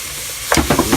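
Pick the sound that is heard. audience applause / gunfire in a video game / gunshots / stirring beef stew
stirring beef stew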